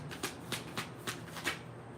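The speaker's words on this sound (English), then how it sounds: "I like to shuffle the entire deck to see what all is going to come out." A full deck of cards shuffled by hand in a steady run of about six quick, soft riffle-like flicks over low background hum, faint and close.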